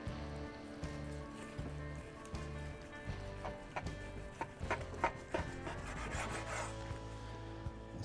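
A knife draws through a glazed spiral ham coated in salted caramel, giving soft rubbing, rasping strokes of moderate loudness over a steady tonal background.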